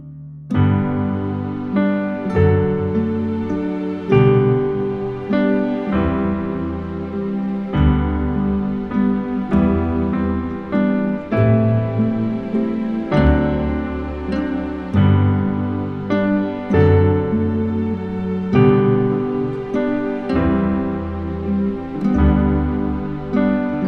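Solo piano playing an intermediate-level arrangement of a song from The Sound of Music, a slow waltz of gently struck chords and melody notes at steady moderate volume, with no talking.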